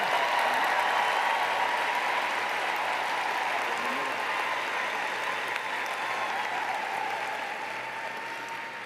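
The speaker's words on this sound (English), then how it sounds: "Let's give them a huge round of applause" An audience applauds at an emeritus recognition event, a dense, sustained wash of clapping from a large crowd that holds steady and fades slightly at the end.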